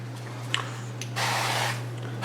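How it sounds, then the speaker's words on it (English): Duck fat sprayed from a can onto a roughly 6x9 baking pan, a steady hissing burst of about one second following a few small clicks, close and moderately loud over a constant low hum. "Just use that to spray the pan."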